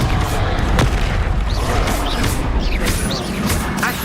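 Confringo blasting spells from Hogwarts Legacy go off in booming, crackling bursts amid rapid combat clatter, loud and dense throughout with sharp impacts scattered across the span.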